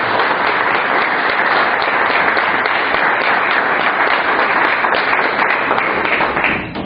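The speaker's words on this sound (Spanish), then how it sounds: "Démosle un fuerte aplauso de bienvenida." A congregation claps steadily in a church, dense continuous applause filling the space at full volume before easing off at the end.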